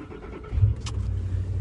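A car engine is started: there is a quiet rumble, then a brief cranking burst, and the engine settles into a low, steady idle over about a second and a half.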